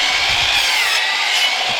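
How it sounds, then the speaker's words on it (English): A miter saw slices through a length of baseboard at a 45-degree angle, giving a loud, steady, close-up cutting roar that lasts the whole brief moment. "Oh, that's a miter saw for the win."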